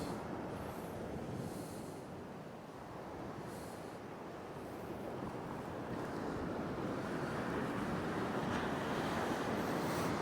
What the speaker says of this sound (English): tide's definitely chasing me up.